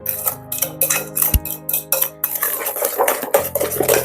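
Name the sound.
banana loaf batter being mixed in a bowl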